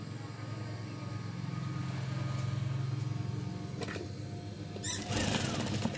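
A sewing machine stitches a curtain panel in one steady, continuous run, its motor humming close and even, with a brief clatter near the end.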